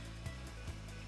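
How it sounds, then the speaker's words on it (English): 3D printer cooling fan rattling with something caught in its blades, a faint, steady whirring hum with a rhythmic scraping tick about every half second. "Apologies for the noise, there's probably something stuck in my fan here."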